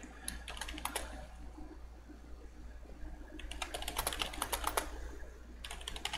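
Clattering keystrokes on a computer keyboard while chatting in the game Second Life, in quick irregular bursts with a pause between, close and fairly soft over a low steady hum.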